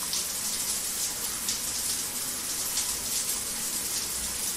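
Steady water running from a tap in the horror video game Inside: Before Birth, a continuous hissing gush that stays at an even, fairly close level for the whole stretch with no voices over it.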